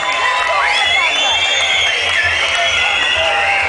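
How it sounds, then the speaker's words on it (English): A large crowd at an outdoor reggae sound system showcase at Reggae Geel in Belgium cheers and shouts loudly and continuously, with whoops rising over a dense roar; applause may be mixed in. "I want to give this hand a big round of applause for Daddy Hugh Roy!"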